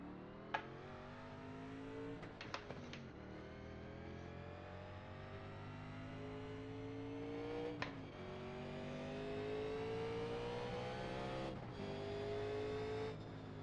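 A NASCAR Legends stock car in iRacing at Richmond, its engine revving up through gears with rising harmonic whine, short shift drops and sharp clicks, loud and continuous with no talk.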